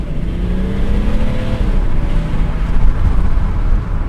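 A car with a powerful diesel engine accelerates hard in sport mode, its loud, rising engine note building steadily and close, heard alone without talk.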